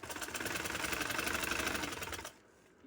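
A sewing machine runs at steady speed stitching fabric for a V-cut neckline, a fast even rhythmic whir close by, then it stops abruptly, leaving near quiet.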